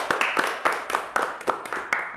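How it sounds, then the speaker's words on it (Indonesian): An audience at a school chat session claps in a loose, uneven rhythm: roughly a dozen sharp, close claps spaced a little apart, loud and clear with no talking over them. "Tepuk tangan buat kita semua."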